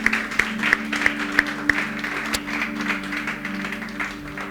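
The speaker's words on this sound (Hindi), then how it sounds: "क्या आप हम अपने प्रभु यीशु मसीह के लिए जोरदार तालियां बजा सकते हैं?" A church congregation claps for Jesus during a worship service. A few distinct, sharp claps at first give way to softer, scattered applause, all over a low steady electrical hum.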